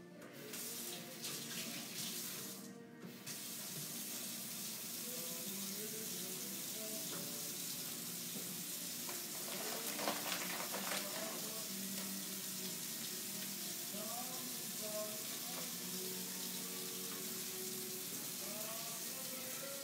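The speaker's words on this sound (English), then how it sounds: "now, let me wash my hand" Water runs steadily from a kitchen tap while hands are washed beneath it, a continuous splashing hiss that shifts slightly as the hands move.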